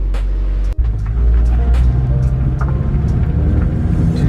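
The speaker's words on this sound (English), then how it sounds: "Exhaust install was successful, nice and quiet, no leaks" A Honda Civic Si idles on a newly installed, leak-free exhaust with a low, quiet, steady rumble, mostly even in tone after a brief dropout near the start.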